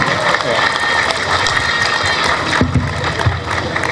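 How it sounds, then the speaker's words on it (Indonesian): Applause from a youth-organisation crowd at a large halal bi halal gathering, a dense, continuous clatter of clapping that holds steady and fairly loud throughout without pause. "Tepuk tangan untuk Bu Risma"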